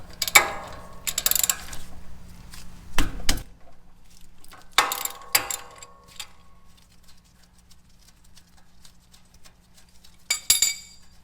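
Ratchet working a 12 mm caliper bolt on a 2018 Toyota Tacoma during a front brake job, several close bursts of rapid clicking and metallic clinks separated by quiet pauses, with a low steady hum underneath.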